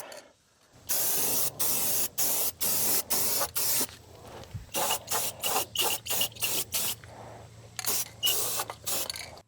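Spray gun applying paint to GMC truck suspension parts, a series of loud hissing bursts, roughly a dozen short sprays separated by brief pauses, with a faint steady compressor hum underneath.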